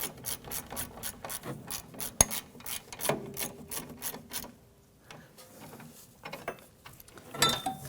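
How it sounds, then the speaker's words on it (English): A bolt is run down by hand on the rear upper control arm of a 2011-2021 Jeep Grand Cherokee, giving a close, rapid series of scraping, ratcheting clicks that slow and fade before a last brief flurry. "we'll go ahead and run that bolt down"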